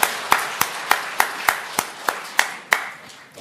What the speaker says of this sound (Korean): 하나님께 영광의 박수를 보내겠습니다.